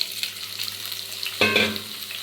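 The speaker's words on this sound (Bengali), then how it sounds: "এবার আলুটাকে সুন্দর করে ভেজে নেব" Potatoes frying in a wok after shrimp, an even sizzle that flares louder at one point as the pieces are turned, with light stirring scrapes and no talking.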